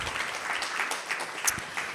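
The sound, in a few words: audience applause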